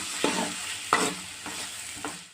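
Onions frying in a pan for tomato kulambu are stirred with four distinct, close scraping strokes over a soft, steady sizzle.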